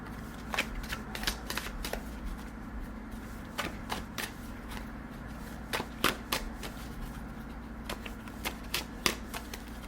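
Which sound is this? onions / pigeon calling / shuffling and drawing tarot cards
shuffling and drawing tarot cards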